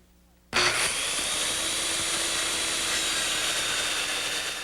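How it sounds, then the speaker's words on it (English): A power saw cuts across a clamped wooden board, a sudden loud, steady buzzing rasp starting after a brief quiet moment and continuing close up to the end. "make sure when you're running your saw across your board to keep the base running flat along your wood"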